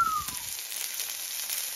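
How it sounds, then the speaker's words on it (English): Chicken pan-frying with a steady broadband sizzle that holds for under two seconds, close and fairly loud, with a brief whistling tone fading at the start. "Pan fry quickly"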